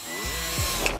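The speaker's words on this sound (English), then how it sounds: "Start up your drill" A power drill driving screws while building roller skates from Adidas Yeezy V2 sneakers whirs loud and close, its motor pitch shifting through the short burst of whining.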